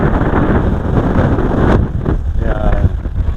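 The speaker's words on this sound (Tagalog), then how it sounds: "Ah, mahangin pa." Strong gusty wind buffets the microphone on a high hilltop at Monte Maria, a loud continuous roar with shifting surges throughout.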